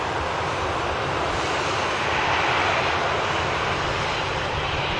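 An EasyJet airliner touches down at Manchester Airport, its engines a loud, steady broadband roar that carries through the whole stretch without a break.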